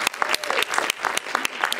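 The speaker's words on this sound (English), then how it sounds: "so I wanted to offer him a round of applause." A modest school audience at a keynote applauds a science teacher with distinct, close hand claps, fairly loud and uneven, the individual claps standing apart rather than merging into a roar.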